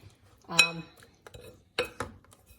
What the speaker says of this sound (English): Then I mix all these ingredients together and kind of mix it like this.